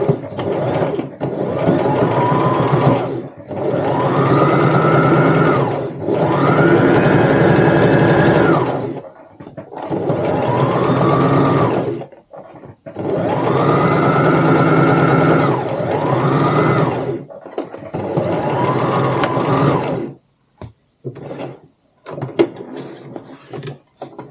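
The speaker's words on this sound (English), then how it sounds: "And we are sewing this with 1/4 of an inch seam allowance, so just line it up with the edge of your presser foot" Sewing machine stitching a tote bag seam at a quarter-inch allowance, several loud close runs of rapid needle chatter separated by short pauses, ending in scattered clicks and handling noises.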